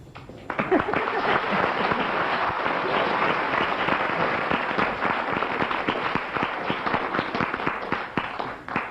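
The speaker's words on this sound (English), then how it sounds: "If you agree, clap." A live radio comedy panel-show audience claps steadily and loudly for several seconds, a dense, sustained wash of hand claps from the whole room with no talk over it.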